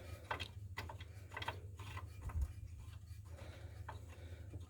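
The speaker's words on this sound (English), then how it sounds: "Let's put the bolt back into place." A bolt is fitted back into place on a 2006 Ford Explorer V6 during serpentine belt work, giving a series of light, sharp metallic clicks and ticks over a steady low hum.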